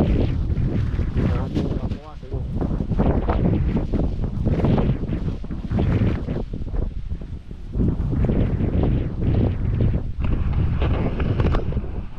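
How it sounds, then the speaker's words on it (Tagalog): Strong wind gusts roar and buffet the microphone in uneven bursts, with brief lulls between blasts and faint voices underneath. "Grabe na po ang hangin no?"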